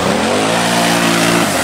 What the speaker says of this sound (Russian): Как Нива пошла за Нивой!